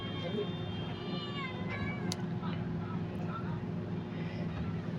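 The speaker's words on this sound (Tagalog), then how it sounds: "Ngayon ipapakilala ko sa inyo yung mga pusa ko" Pet cat meowing indoors, a few short, thin meows rising over a steady low hum, with a brief sharp click in the middle.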